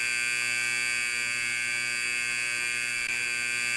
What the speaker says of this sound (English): Is there a way to silence alarms in this game?